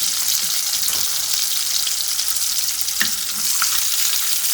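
Beef seekh kebabs fry in a pan with a loud, steady sizzle throughout, broken by a few sharp clatters as they are turned over.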